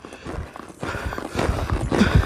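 A horse lopes under a rider, its hooves thudding in a steady, rolling three-beat rhythm on soft ground, fairly close and uneven in loudness, with no talking over it.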